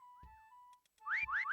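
A whistle is blown in several sharp bursts: one short wavering tone, a pause, then three quick rising trills close together, fairly faint and with no talk over them.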